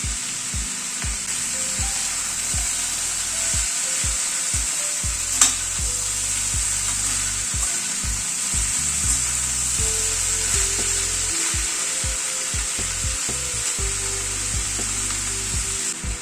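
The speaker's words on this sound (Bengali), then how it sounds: "চিকেনটাও অ্যাড করে দিচ্ছি।" Boiled chicken pieces frying in a pan give a steady, even sizzle for the whole stretch, with a few stirring scrapes and low tones humming underneath.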